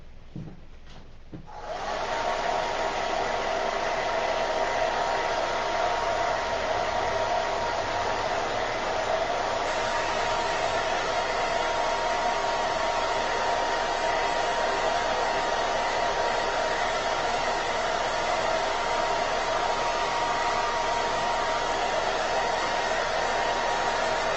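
A hair dryer drying gold ink on a chalk-painted surface switches on after a brief rustle and then blows as a loud, steady, continuous whoosh right up close, with no break for the rest of the clip.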